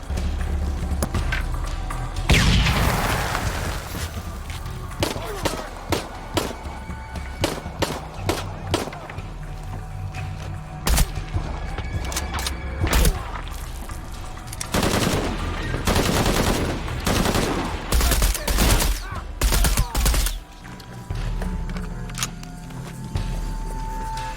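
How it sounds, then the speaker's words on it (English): Heavy gunfire in the video game Shadow of the Tomb Raider: sustained automatic bursts and many sharp shots, loud and close, coming in dense clusters over a noisy firefight background for about twenty-four seconds. "Heavy fire!"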